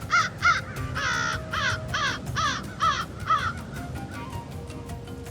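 Ravens call over and over in loud, harsh caws while harassing a wolf at its prey in the frozen Alaskan wilderness, about a dozen rapid calls in a steady series, close and clear over a low rumbling background.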